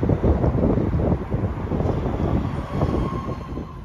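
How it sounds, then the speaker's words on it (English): Train running on rails on a West Midlands line out of Aston, a steady close rumble with wind buffeting the microphone throughout, no voices. "Right, this train's going to take me out of Aston"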